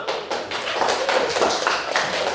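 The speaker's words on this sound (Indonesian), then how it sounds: "Tepuk tangan dulu untuk semua" Classroom students clap for everyone during a lesson, a brisk, dense burst of hand claps filling a couple of seconds, fairly loud and close, with no voices over it.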